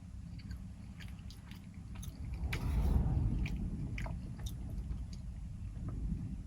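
Soft close chewing and biting on a home-cooked dish during a taste test at a van campsite, quiet wet mouth sounds over a low background rumble.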